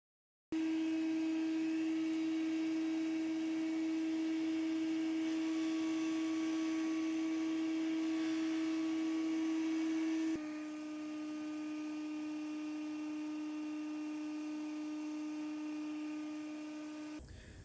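A bench grinder shaping a carbon fiber knife inlay down to a marked edge: a steady motor whine with constant tonal hum runs the whole time, shifting slightly midway as the workpiece pressure changes.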